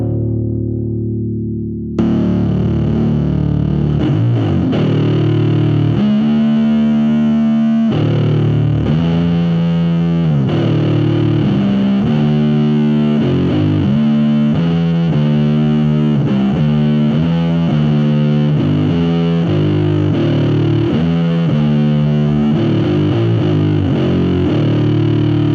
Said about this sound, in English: But then I can add the fuzz on top of that.